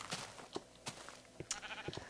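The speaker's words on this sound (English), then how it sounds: "Out of my way, sheep." Faint Minecraft sheep bleats mixed among scattered clicks and short taps of gameplay, quiet and somewhat distant, with no voices.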